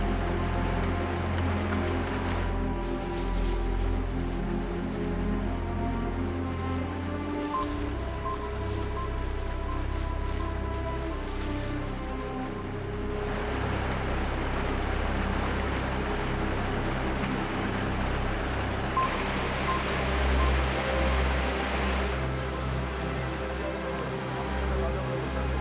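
An icy river in the Caucasus of Georgia rushes and sprays in a continuous hissing roar of churning water, close and steady throughout, with brief louder surges.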